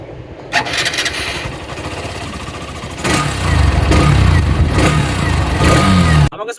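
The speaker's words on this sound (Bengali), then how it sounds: "এক্সট্রিম ওয়ান টোয়েন্টি ফাইভ এর এক্সস্টের সাউন্ড" A Hero Xtreme 125R 125cc motorcycle starts and idles, its exhaust a loud, close, steady rumble that grows heavier midway before cutting off abruptly at the end.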